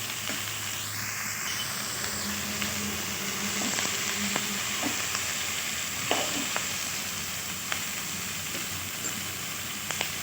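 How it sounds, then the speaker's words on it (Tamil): Drumstick pieces and onions frying in oil, a constant close sizzle with scattered clicks and scrapes of a spoon stirring them around the pan. "முருங்கைக்காயும் வெங்காயமும் நல்லா ஒன்று சேர விரசி வரட்டும்."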